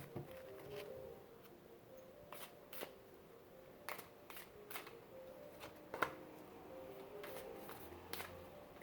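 Ask an Angel tarot cards, a larger deck, are shuffled and handled, giving soft repeated flicks and riffles over a faint background hiss at a low level.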